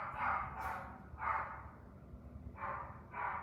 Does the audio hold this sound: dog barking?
yes